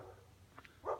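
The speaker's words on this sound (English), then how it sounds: "They have a dog up there." A dog guarding a courtyard behind a gate gives a single short bark near the end, heard from a distance over quiet low outdoor rumble.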